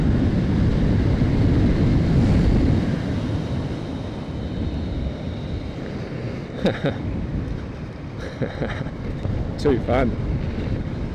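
Braaap 8,000 watt electric motorcycle ridden at speed, a steady broadband rush of wind and motor whine dominating throughout, with a voice speaking briefly near the end.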